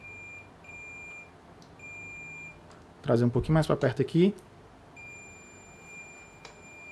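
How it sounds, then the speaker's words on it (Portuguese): A digital multimeter on continuity mode emits a thin, steady high-pitched beep that holds for a few seconds, breaks off while someone speaks Portuguese, then resumes. "na hora que eu encostar um no outro, ele vai fazer esse bipzinho"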